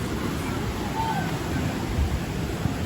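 Pacific Ocean surf rolling onto a beach in Peru where surfers practise catching waves, a steady broad rushing wash with some wind buffeting on the microphone, no distinct single breaks.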